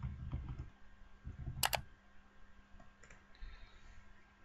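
A computer keyboard is pressed while a banner is laid out in CorelDRAW, giving a few quiet, sharp clicks amid a low background hum, close by, with no voices.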